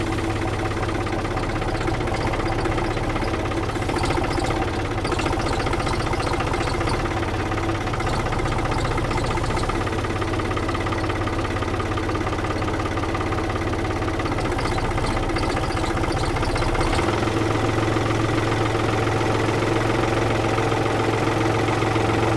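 A tractor engine runs steadily at a sawmill with a Woodland Mills HM126 while a massive pine log is handled, a continuous mid-to-low idling rumble with mild knocking that holds throughout, with no talk.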